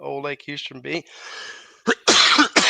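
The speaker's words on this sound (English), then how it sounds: "Excuse me, y'all, for coughing." Someone coughs several times in bursts right after a few spoken words, harsh loud hacks close to the microphone.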